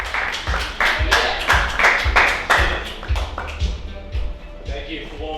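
A small comedy club audience claps in a sparse, uneven rhythm of distinct individual claps, heard from a playback recording, with talking running over it.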